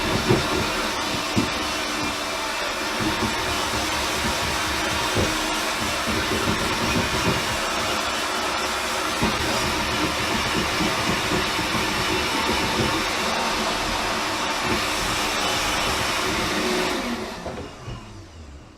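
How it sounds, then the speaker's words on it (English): A blender whirs continuously through pizza sauce with olive oil, a loud steady motor drone with churning texture that holds for most of the run before winding down at the very end. "Blend all of that and let it blend until it's nice and smooth."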